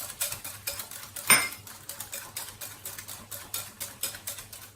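A whisk beats cream by hand in a bowl for a creamy fruit salad, giving quick, steady rhythmic clinks and taps of metal on the dish, close up, with one sharper knock partway through.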